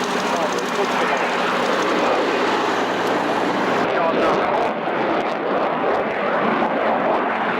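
Swing-wing jet at the 1988 Biggin Hill airshow, wings in the medium sweep position, passing with a sustained loud engine roar that shifts in tone midway as it goes by.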